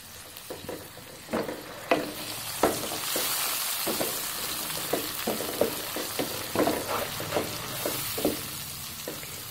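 Tomato paste, garlic, ginger and spices frying in a pan for a Saraiki potato and fenugreek dish, a constant close sizzle broken by repeated scraping stirs of a spoon, with no talking.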